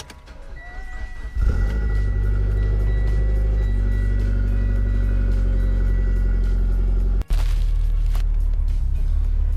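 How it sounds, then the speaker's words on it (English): A Mitsubishi Lancer Evo X engine cranks and fires up, then settles into a loud, steady, rumbling idle close by, with a brief cut-out near the end before the idle resumes. "Let's turn this car on."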